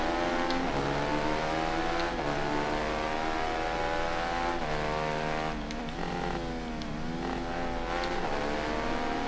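Stock, unmodified motorcycle engine in the racing video game Ride 3, revving hard through repeated rising and falling gear changes, loud and close with a steady buzzing drone and no talk.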